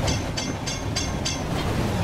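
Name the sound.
train running on rails in Roblox train game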